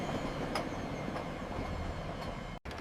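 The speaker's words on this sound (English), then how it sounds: "E is for engine. Choo-choo! The train is coming!" A cartoon train engine rolls past with a continuous clattering rumble and light rhythmic clicks, then a sudden momentary dropout just before the end.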